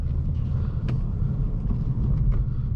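A 2019 Ford Mustang Bullitt V8 with a 6-speed manual rolls slowly through a parking lot, its engine a steady, close, low rumble with a brief louder blip partway through; no one speaks.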